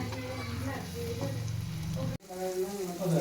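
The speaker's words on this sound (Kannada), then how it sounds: "ಈ ಎಣ್ಣೆ ಜೋಡಿನ ಮಸಾಲೆನ ಕುದಿಸ್ಕೊಂಬಿಡಣ್ರಿ ಚಲೋ ಹೊತ್ನಾಗ" Masala frying and bubbling in hot oil in a pan for an egg curry, a steady close sizzle with a brief cut partway through before the crackle resumes just as loud.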